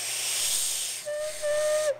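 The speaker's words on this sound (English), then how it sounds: "So there, it's kind of whistling." A handmade clay whistle with a freshly cut bevel and mouthpiece is blown in two breathy, steady tones, the second longer and stronger, over a hissy background with no talk.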